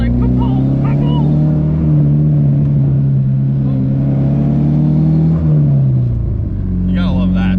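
A Dodge SRT-4 engine drones loud and close with a steady low rumble, its pitch shifting slightly before easing off, while people talk over it.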